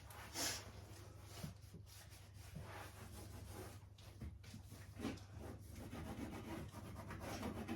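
Soft, continuous scrubbing and rubbing, faint and close, as surfaces are cleaned inside a single-wide mobile home, with occasional brief louder strokes over a low background hum.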